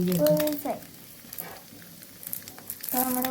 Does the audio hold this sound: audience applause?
no